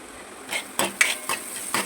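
Ingredients with turmeric and salt being stirred in a pan until golden, a few quick scraping strokes of a spoon against metal in a short burst over a faint sizzle.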